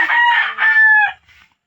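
A fighting gamecock crows once at a chicken coop, a loud, close, drawn-out call about a second long with a fainter tail.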